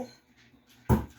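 A single sharp dog bark bursts out near the end, close and loud, after a stretch of near quiet.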